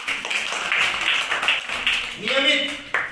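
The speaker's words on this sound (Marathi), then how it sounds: "टाळ्या वाजवण्यासाठी" Children clap their hands in class during a scholarship language lesson, a short burst of patters mixed with voices, and a voice rises clearly near the end.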